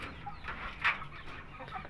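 Four-month-old black European Shamo chickens cluck softly in a farm coop, a few short calls rising faintly over low background noise.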